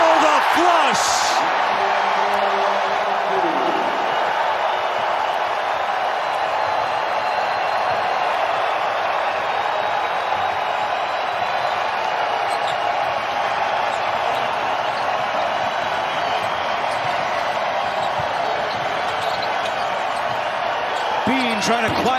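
A basketball arena crowd of Aztecs fans at a college conference championship game roars in a sustained, loud wall of cheering and whooping, steady throughout with no letup.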